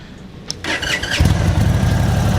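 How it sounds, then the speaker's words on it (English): A 2026 Indian Chief Vintage motorcycle cranks briefly, then its engine catches and settles into a loud, steady idle close by. "I think I'm gonna have to start the bike for you to see that"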